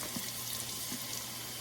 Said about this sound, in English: we're gonna fill it with water